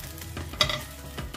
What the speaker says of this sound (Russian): Жарим с одной стороны